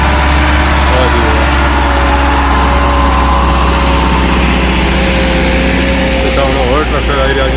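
Engine drone at a tractor fair in Dadyal, Azad Kashmir, a loud, steady low hum and chug that fills the whole stretch, with crowd noise and voices beneath.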